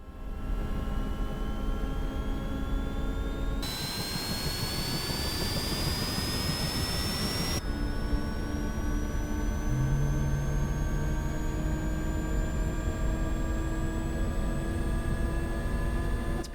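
A Sikorsky S-76C helicopter's turbine engine spools up in Microsoft Flight Simulator 2024, a loud continuous whine that climbs steadily in pitch over a low rumble, with no talking.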